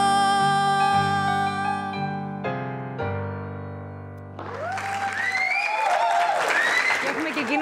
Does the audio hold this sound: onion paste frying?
no